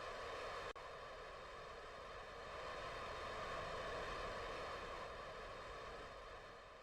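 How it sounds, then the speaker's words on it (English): Tiny rocket engines fire on a spacecraft in Kerbal Space Program, a continuous, broad, roaring hiss that swells slightly and then eases, with no talking. "those tiny engines are loud"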